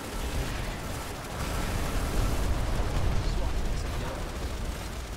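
A rumbling blast and dense battlefield din from a grenade explosion in Planetside 2, loud and continuous with no clear pause.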